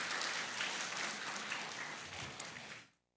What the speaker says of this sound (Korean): 축복의 박수 한번 치면 좋겠습니다.